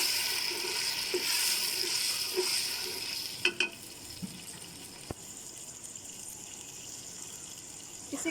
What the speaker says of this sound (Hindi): मैं इसको 5 मिनट तक तेज़ आंच पर अच्छी तरह फ्राई कर लिया